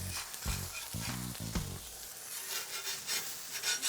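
Burger patties sear on a hot griddle, with a steady broadband sizzle throughout and a few low pressing or scraping thumps in the first two seconds.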